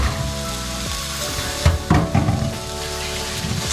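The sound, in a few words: stirring carrots, potatoes and green beans in a pan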